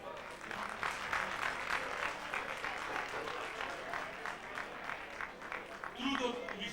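Audience applause at a Macedonian gathering, sustained steady clapping from a moderate crowd that carries on evenly for several seconds, with a faint voice rising near the end.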